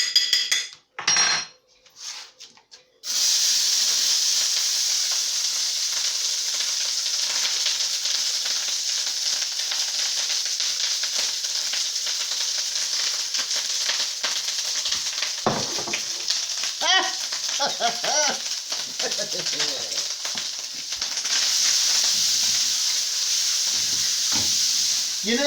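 Rice frying and charring in a hot pan gives a steady, bright sizzle that runs almost unbroken, with brief clinks and scrapes of a utensil against the pan partway through.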